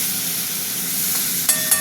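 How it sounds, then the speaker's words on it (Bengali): Prawns fry with onion in a pan, giving a steady, even sizzle and hiss with two brief clinks of utensils near the end and no voices. "চিংড়ি মাছটা একটু ভাজা ভাজা হবে"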